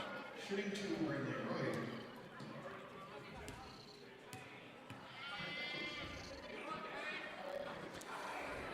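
A person in the student section imitates a wavering goat bleat amid crowd noise at a high school girls' varsity basketball game, while a commentator keeps talking over it.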